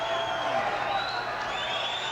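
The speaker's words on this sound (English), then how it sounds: "Crowd loves it." A pro boxing arena crowd cheers and applauds steadily, a broad wash of noise with whoops rising through it, while a commentator's voice runs over the top.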